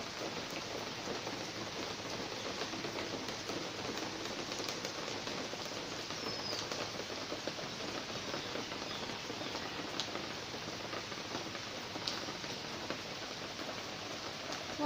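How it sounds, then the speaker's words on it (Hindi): Steady rain falling on a Sunday morning, an even, continuous hiss of drops heard from indoors, moderately soft and unbroken for the whole stretch with no voices. "आज संडे के दिन बारिश हो रही है।"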